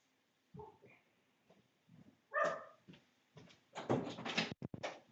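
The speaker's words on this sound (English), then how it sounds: "I don't know what the hell you're barking at" A dog gives a few soft woofs and whimpers, then a louder burst of rough barking with thumping noises, close by in a quiet room.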